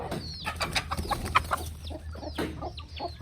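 Chickens cluck and squawk close by while being fed mixed rice and food scraps, a busy overlapping chorus of short calls over a steady low background hum.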